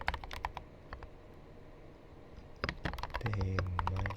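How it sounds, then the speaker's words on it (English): Clacky keystrokes on a keyboard fitted with ceramic keycaps, scattered taps at first, then a quick burst of typing, close and quiet with a faint low tone underneath toward the end. "Don't mind the ceramic keycaps."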